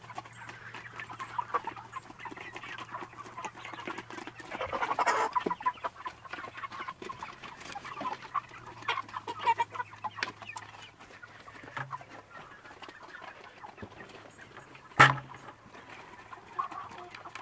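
Buff Orpington and other heritage breed chickens cluck softly and sporadically, one sharper call standing out near the end, over a faint low hum.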